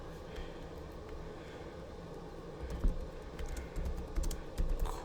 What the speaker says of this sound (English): Let me type this out real quick.